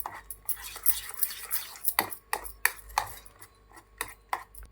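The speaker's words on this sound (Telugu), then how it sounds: "ఇలా మెత్తగా స్మాష్ అయ్యేలాగా ఒత్తుకోండి" Ripe fruit is mashed by hand in a bowl for sabja seed pudding, giving a busy run of close clinks, taps and squelchy stirring knocks at an uneven rhythm, with no voices.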